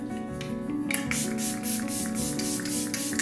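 Bursts of makeup setting spray misted in quick succession, a rhythmic hiss repeating about every half second over a steady background hum, close and fairly soft.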